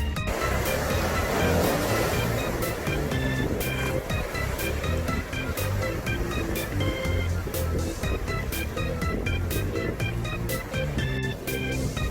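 Ocean waves roll onto the East Sea coast near Chotdae Rock in a steady, loud wash of surf with no letup, close by and continuous, with no talk over it.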